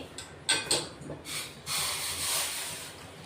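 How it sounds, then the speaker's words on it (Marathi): A glass of hot water is poured into a pressure cooker, giving a close splashing gush that rises then settles into a steady pour, with a few knocks of the glass before it. "गरम पाणी ठेवलंय आपण आता 1 ग्लास, ते ओतून घेतोय"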